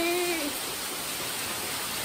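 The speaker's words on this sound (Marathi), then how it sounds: "तुम्ही बाहेर बघताय हा केवढा पाऊस आहे" Heavy rain pours outside a village house, a steady dense hiss of close, loud downpour that fills the whole stretch, with a faint tonal sound at the very start.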